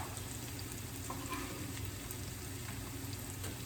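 Chopped garlic sizzles steadily in a hot pan while making a spicy tomato-based sauce, a continuous crackling fry with occasional soft stirring, close and moderately quiet, with no talking.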